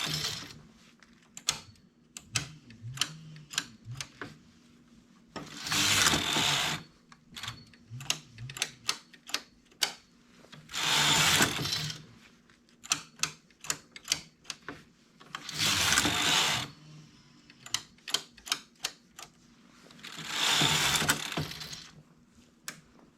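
The carriage of a domestic knitting machine knits rows, with four loud rasping sweeps spaced a few seconds apart and runs of light ticking and clicking between them.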